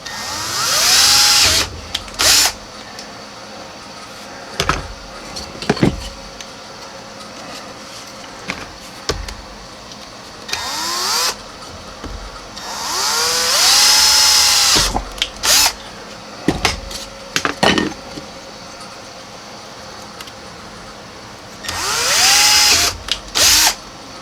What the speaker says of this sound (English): I'll just take my hand drill and drill some quick little holes right in here.